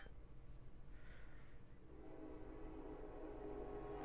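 A train in Genshin Impact rolls past at Yilong Wharf, a faint, low, continuous rumble that grows slightly fuller toward the end.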